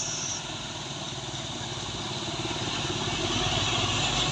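A Toyota Avanza engine runs hard with a steady, loud, continuous roar that swells slightly toward the end.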